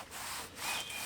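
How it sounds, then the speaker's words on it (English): Faint cloth rubbing over stained wooden shed steps, soft scuffing strokes in a quick back-and-forth rhythm, wiping away excess stain, close but quiet. "I'm going to do, is just rub off the excess, make sure it's nice and even"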